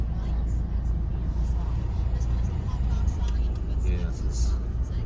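Steady low engine rumble inside a jeepney without air conditioning, crawling in heavy traffic from SM City Clark to SM Pampanga in San Fernando City, with road noise throughout and people talking faintly over it.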